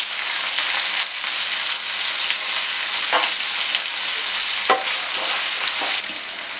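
Tomato and onions sautéing in a pan for kuzhambu, giving a bright, continuous hiss of frying oil with a few soft scrapes of a spatula against the pan, steady and close, with no talking.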